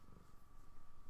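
A cat purrs softly and steadily at close range, a low continuous rumbling flutter that stays quiet and unbroken throughout.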